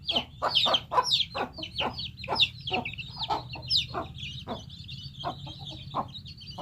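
A country hen clucks repeatedly in quick, rhythmic low calls to gather her chicks, close by, with faint peeping of chicks in the background.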